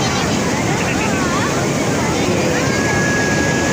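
Heavy sea waves surge at Turtle Beach in Karachi, a loud, continuous roar of churning surf that fills the whole stretch, with a faint high tone rising briefly near the end.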